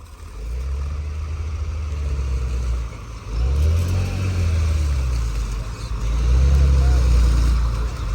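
A wheeled farm tractor pulling a load, its deep engine droning and surging louder in heavy bursts as it strains. Voices can be heard in the background.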